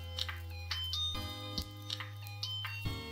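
A soft notification bell chimes several times in quick succession, each ding bright and short, over a low steady hum.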